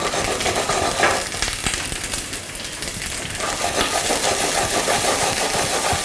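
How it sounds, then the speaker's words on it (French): Cherries are pan-fried briefly during garnish preparation in a kitchen, giving a steady, loud broadband sizzle over a constant engine-like hum, probably an extractor, throughout with no talking. "Et on va donc poêler les cerises."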